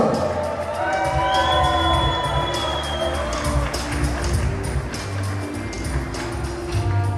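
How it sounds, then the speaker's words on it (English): Wedding reception guests cheer and whoop over music during a mother-son dance, a loud, lively crowd with shouts and whistles rising above a steady background. "Ladies and gentlemen, please, let's give them a huge round of applause."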